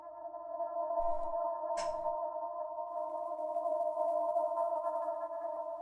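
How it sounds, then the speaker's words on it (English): A sustained, nasal synthetic drone with a squeaky, rubbery tone, washed in heavy reverb, with a couple of brief clicks early on. "almost a rubber chicken going but with a lot of reverb on it"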